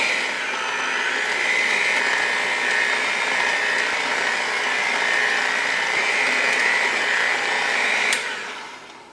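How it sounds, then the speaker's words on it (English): A handheld electric mixer whirs steadily as it blends flour and baking powder in a bowl for a chocolate cake, a continuous close motor drone running nearly nine seconds before cutting off. "We'll grab our mixer and we'll slowly mix this together"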